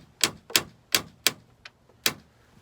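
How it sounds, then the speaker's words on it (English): Rattling from a loose Nurspec rear wing on a Scion FR-S, heard as a series of sharp, close knocks or taps about every third of a second, with no talking. "My Nurspec wing's been making a crazy noise."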